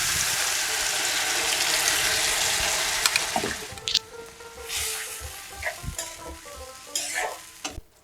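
Rohu fish with mustard paste sizzles loudly in a pan until spiced masala water is poured in. The hiss then drops sharply to quieter bubbling, broken by scattered stirring scrapes and clinks.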